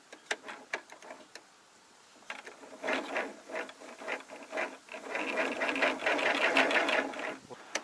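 Gear noise from the pedal drive shaft of a handmade folding catamaran comes through as a close mechanical whirring and rattling with sharp ticks, quieter early on and then louder and busier toward the end.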